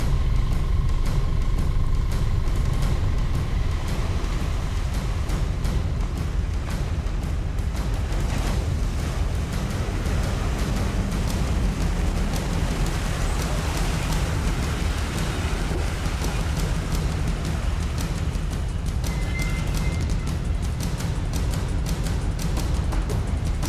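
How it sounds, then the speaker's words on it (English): A 4WD grinds through thick mud on a Victorian High Country track, a steady low engine roar under continuous splashing and spray that holds for the whole stretch with no talking. "we were in for some of the muddiest driving of the day"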